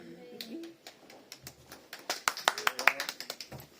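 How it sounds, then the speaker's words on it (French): A church congregation at a Sunday service claps, starting with a few scattered, quiet claps that build into a denser burst of applause before thinning out. "On applaudit Gladys."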